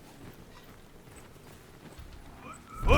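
Horses in the Bannerlord battle game give soft clip-clopping hooves over a murky background, ending in a louder burst of whinnying and movement at the close; commands are shouted nearby.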